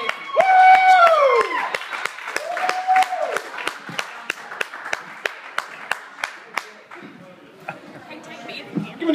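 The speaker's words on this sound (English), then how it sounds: "Give another big round of applause for Sheila Naifeh" After a voice at a stand-up comedy show, a small audience claps for comedian Sheila Naifeh with sparse, evenly spaced claps that thin out toward the end.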